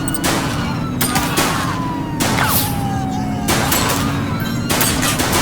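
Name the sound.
gunfire from a suspect in video game GTA V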